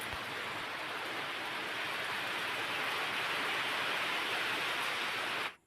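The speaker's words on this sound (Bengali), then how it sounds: "দেখো ভালোই বৃষ্টি পড়ছিল" Steady, even hiss of rain falling continuously, fairly close, with no voices, cutting off abruptly at the end.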